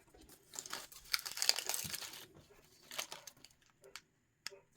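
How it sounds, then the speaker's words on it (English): Close, quiet crinkling and tearing as adhesive backing is peeled off a measuring tape strip, a crackly burst followed by a few short rips and ticks. "I will peel the back of the measuring tape and I will then apply it"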